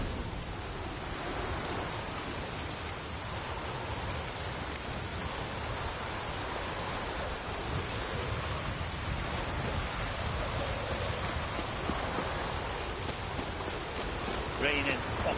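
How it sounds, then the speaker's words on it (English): Heavy rain pours steadily in The Witcher 3 on PS4, a dense continuous hiss of downpour across the whole stretch with faint low rumbling beneath, and no clear voices over it. "Raining buckets."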